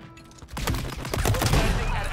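Gunfire cracks out in a video game sniping match after a quiet moment, several sharp loud shots with echoing impacts following in quick succession.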